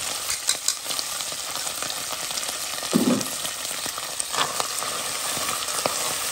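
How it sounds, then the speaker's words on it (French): Herring frying in hot oil in a pan for a Réunion-style rougail, a steady close crackle and sizzle with scattered louder pops throughout. "je mets les harengs pour frire. Attends comment il frite là."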